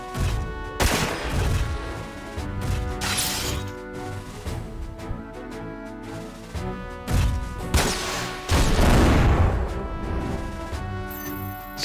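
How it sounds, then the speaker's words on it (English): Heavy gunfire from the PS2 tactical game Front Mission 4, with dense bursts and explosive crashes over layered game music, loud and continuous, peaking in several heavy volleys. "This is concentrated fire here."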